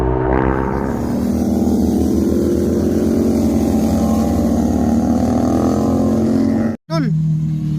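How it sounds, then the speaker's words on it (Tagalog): A big BMW GS 1250–type motorcycle passes loud and close, its steady engine drone holding strong before a sudden brief cut and then resuming, with wind buffeting throughout. "Big bike oh."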